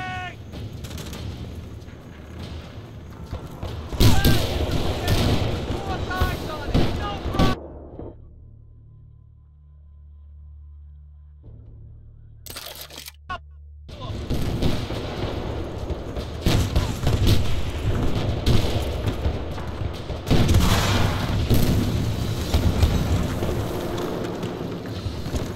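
Incoming artillery shells explode across a Battlefield: Bad Company 2 battlefield in loud, rumbling booms mixed with gunfire, briefly dropping to near silence midway before the barrage surges back, with faint voices.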